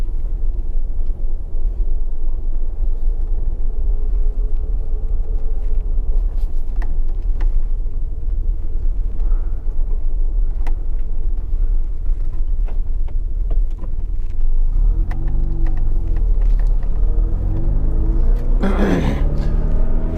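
A Mazda RX7 FB with a rotary engine drives around the block, its steady low rumble heard from inside the cabin, rising briefly near the end as it revs.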